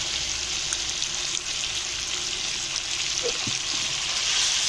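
Onions fry in ginger garlic paste in a pan, a loud, close, continuous sizzle with a bright hiss that holds steady throughout, with a couple of soft knocks and no talking.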